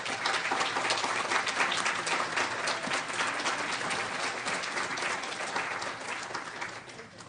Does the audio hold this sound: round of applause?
yes